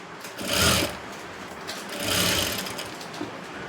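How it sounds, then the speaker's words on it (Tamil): A sewing machine stitches along a blouse border edge, a loud, close, continuous whirring run with slight swells in speed. "கரெக்டாக அந்த ஓரத்துலேயே வச்சு நீட்டாக ஒரு தையல்"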